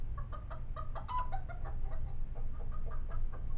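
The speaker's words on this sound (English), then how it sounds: "What's that noise? Our chickens." Video-game chickens cluck in the Law & Order Legacies game, with a dense run of short, overlapping clucks over a low steady hum, moderately close and with no talk.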